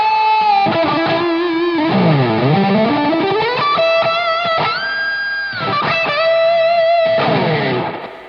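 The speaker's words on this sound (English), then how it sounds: "So if you like some really high gain stuff in your blues, you can go to the modern channel" Heavily distorted high-gain electric guitar through a BluGuitar Amp1, played alone, with sustained saturated chords and bent notes washed in deep reverb, loud and continuous throughout.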